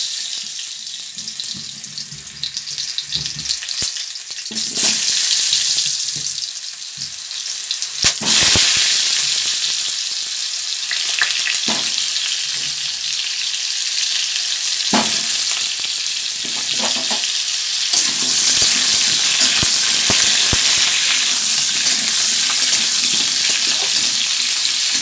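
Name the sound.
potatoes frying and being stirred in a pan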